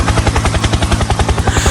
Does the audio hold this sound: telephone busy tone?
no